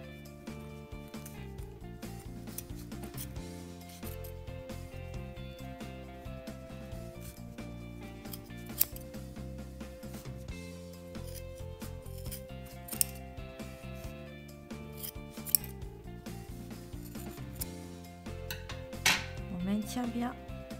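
Close metallic snips and clicks of scissors cutting through yarn wound around a cardboard ring, a few sharp cuts over soft background music.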